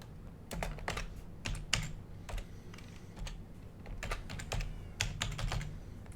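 Rapid, uneven computer keyboard typing rattles out the text of a Minecraft sign. The keystrokes come in close, crisp bursts with short pauses between them.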